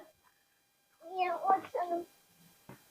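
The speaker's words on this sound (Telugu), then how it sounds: "పిల్లులు చూడు, పిల్లులు" Cats meowing outdoors, a short burst of two or three rising mews close by, followed by a brief faint cry, with quiet background in between.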